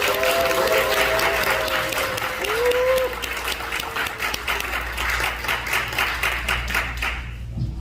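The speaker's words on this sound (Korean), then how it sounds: "우리 목사님 모실 때 큰 함성과 박수로" Cheering and applause from a church seminar audience welcoming a pastor to the stage, dense clapping with a voice and sustained tones early on, then thinning to scattered claps before fading out.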